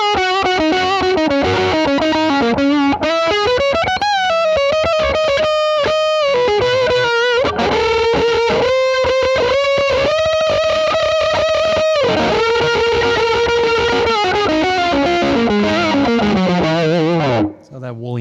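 Electric guitar through a JHS PackRat distortion pedal set for a woolly lead tone, playing sustained saturated notes and bends for about seventeen seconds, loud and continuous, ending abruptly.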